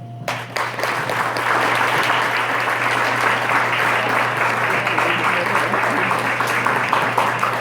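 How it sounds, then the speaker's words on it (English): An audience breaks into loud, sustained applause after a talk on the journey of a soul, dense clapping from many people that holds steady and close for several seconds. "I think we should all stand and applaud."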